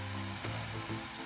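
Oil sizzles in a pan during Kerala home cooking, a short burst of dense, close frying hiss that holds steady with faint bubbling pops and no voices.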